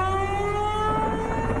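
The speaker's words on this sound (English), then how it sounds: "Tornado warning sirens sounding the alarms as hail, torrential rains, and wind up to 68 miles per hour battered Tennessee" A tornado warning siren wails with a steady, sustained tone during storms in Tennessee, loud and continuous with no voices.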